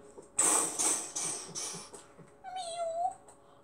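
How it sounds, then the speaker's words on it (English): Several soft meows from a cat in a video game, a quick run of short calls followed by a longer, higher drawn-out meow, fairly close and quiet. "A nice little cat."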